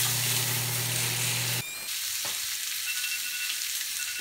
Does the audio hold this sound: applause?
no